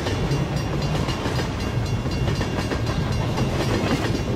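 A train passes close by, a loud continuous rumbling and clattering of rail cars that fills the clip without pause.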